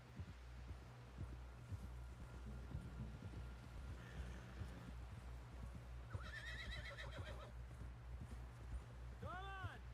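A horse in Red Dead Redemption 2 whinnies with a rising and falling call near the end, after steady clip-clop hoofbeats; game voices talk throughout under a low rumbling music bed.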